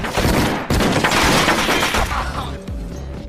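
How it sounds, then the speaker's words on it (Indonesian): In an action movie, young and old gangsters exchange fire: dense, loud volleys of gunshots roar almost without a break, with crashing and shattering mixed in, and then they thin out toward the end. "Setelah itu terjadilah baku tembak antara kaum muda dan kaum tua."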